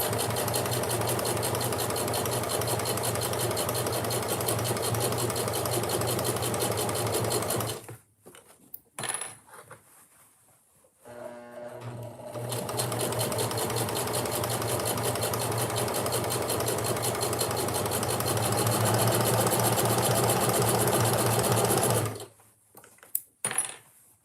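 A sewing machine stitches fabric in two long runs of fast, steady mechanical chatter, close and loud, with a short pause of clicks and handling between them and a quieter tail at the end.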